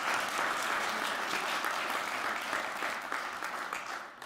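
A crowd applauds warmly, dense continuous clapping that holds steady and then begins to fade near the end.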